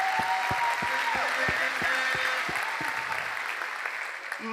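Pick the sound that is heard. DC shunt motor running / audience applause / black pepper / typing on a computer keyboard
audience applause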